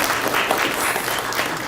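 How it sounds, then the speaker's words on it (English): Applause at a city council candidate forum, a brief, even wash of many hands clapping that holds a steady level throughout, with no talking. "Let's give them a round of applause."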